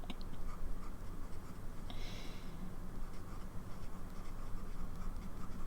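Steady, faint scratching of a pen writing on paper, continuous light strokes close to the microphone with small ticks and pauses, no voices.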